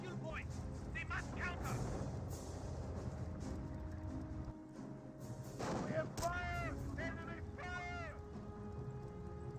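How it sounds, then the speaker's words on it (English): Rifle grenade explosions and battlefield gunfire in Company of Heroes, rumbling blasts and crackling shots under continuous voices and radio chatter. "Getting hit a little bit there by the rifle grenades."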